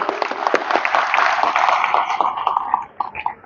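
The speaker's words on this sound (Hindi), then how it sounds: "भाई इनके लिए ताली बजाइए सब लोग" A crowd at a Hindi public talk breaks into applause, a dense burst of clapping that holds for a few seconds and then thins out and trails off.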